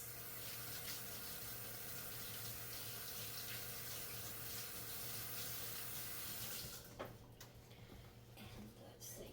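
Tap water runs steadily into a kitchen sink while someone washes their hands, a continuous close splashing hiss that cuts off near the end, followed by faint handling sounds.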